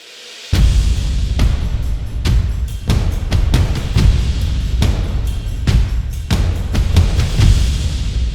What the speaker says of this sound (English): Medusa, a heavy-hitting drum kit ensemble and hybrid percussion library